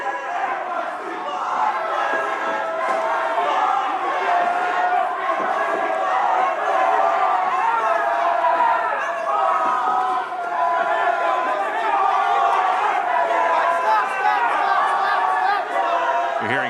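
A split arena crowd at a TCL boxing playoff match inside 2300 Arena, a dense continuous roar of yelling and cheering that stays loud and steady throughout, with a commentator's voice faintly under it.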